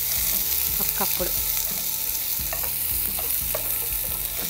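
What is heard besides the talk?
raw onion pieces frying in oil for tempering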